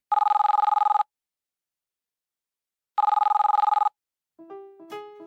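Two loud electronic telephone rings sound while a call goes through to voicemail, each a buzzing trill about a second long with a two-second pause between them, then a short rising series of tones.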